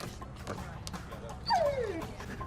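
A dog whimpers in a TV drama scene, a single brief descending whine rising above a quiet background of low murmuring and room noise.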